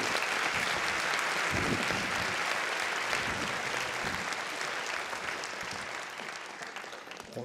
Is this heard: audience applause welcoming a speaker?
yes